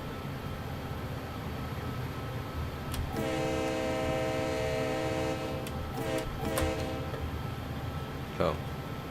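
A train in Train Sim World 2 rumbles past at low level, its horn sounding a sustained chord for a few seconds mid-clip, with steady rail noise underneath.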